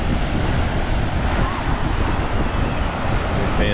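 Surf rolls onto the beach at Amelia Island, Florida, a loud, continuous wash of waves mixed with heavy wind buffeting the microphone.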